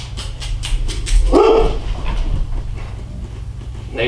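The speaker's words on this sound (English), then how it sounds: "There go the dogs." Neighborhood dogs outdoors on a nice day, heard as a short burst of barking and whimpering yips around the middle, mid-distance, over a steady low background hum.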